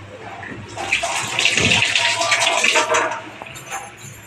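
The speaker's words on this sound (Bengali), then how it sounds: "হাতটা একটু ধুয়ে নিই" Water from a tap runs steadily for about two seconds as hands are washed beneath it, a close splashing rush that then tapers off.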